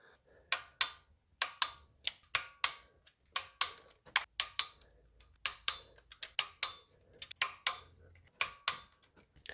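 A torque wrench tightens the valve cover bolts on a 2015 Mitsubishi Mirage 1.0-litre engine in a crisscross pattern. Crisp, close ratchet clicks come in quick bursts of several clicks each, with short pauses between them.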